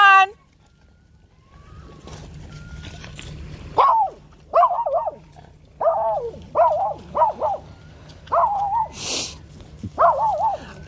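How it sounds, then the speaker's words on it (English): Dogs bark at a beach: a series of about eight close, loud, tonal barks in uneven bursts, with quieter background noise in between. "It's gotta be a kind of a relaxing thing to do when dogs aren't barking at you."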